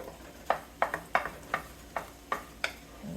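Soft eggs for pork fried rice being stirred and broken up in a hot pan, with about seven brief scraping strokes in an irregular rhythm over a low, steady sizzle.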